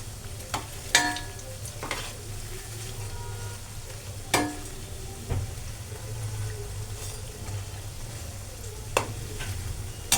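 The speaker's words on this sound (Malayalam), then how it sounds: "അപ്പം നമ്മുടെ ഉള്ളിവട ഇതെല്ലാം മൂത്തിട്ടുണ്ട്. നമുക്ക് ഇതെല്ലാം ഈ എണ്ണയിൽ നിന്ന് കോരിയെടുക്കാം." Onion vada fritters fry in oil with a moderate, continuous bubbling sizzle. Sharp clinks and scrapes from a utensil break in now and then.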